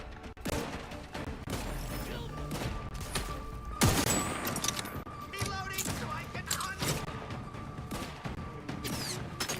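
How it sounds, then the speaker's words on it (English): Enemy gunfire in The Outer Worlds 2, bursts of shots coming from several directions with a heavy crash partway through, busy and close, under a player's voice. "Oh god, they're firing from behind too."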